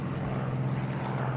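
A P-63 King Cobra racing plane drones past at an unlimited-class air race, its propeller engine giving a steady, loud, sustained roar with no voices over it.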